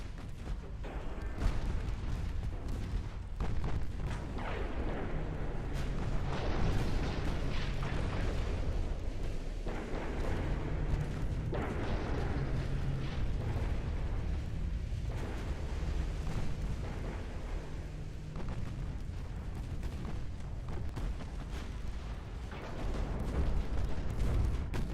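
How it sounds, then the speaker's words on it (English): Torpedo explosions in a naval warfare video game: a dense, continuous roar of booming blasts and rumbling detonations, loud and sustained throughout with repeated heavy impacts layered on top. "More torpedoes landing."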